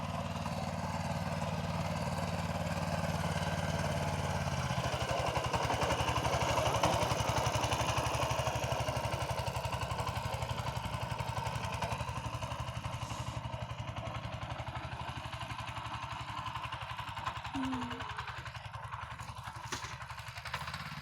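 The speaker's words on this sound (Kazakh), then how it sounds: "Аксакал монуке трактор менен иштеп атат." A small tractor engine runs steadily and continuously nearby during early spring potato planting in a small field, a constant chugging drone with clattering overtones and no pauses.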